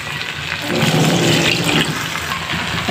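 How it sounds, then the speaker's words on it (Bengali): Water is poured into a cooking pot of chicken curry with spice powders and salt, a steady splashing rush that swells after the first moment and continues throughout, close and fairly loud, with no talking. "এখন এখানে আমি কিছু পানি অ্যাড করে দিব"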